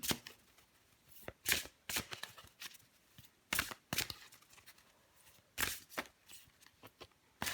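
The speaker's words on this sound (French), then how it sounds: "Je vais encore prendre une carte pour vous, les béliers" Tarot cards are shuffled by hand in crisp, uneven bursts of riffling and flicking, separated by brief pauses, close and fairly quiet before a card is drawn.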